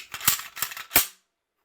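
Walther PPQ M2 Navy Edition 9mm pistol handled for a safety check, magazine and chamber cleared: three sharp metallic clacks and rattles of slide and magazine, close and crisp, then silence.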